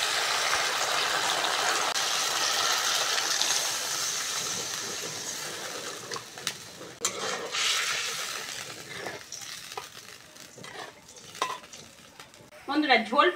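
Water poured into spice masala frying in oil in a pan gives a loud, steady hiss and sizzle that settles into bubbling, with scattered stirring clatter toward the end.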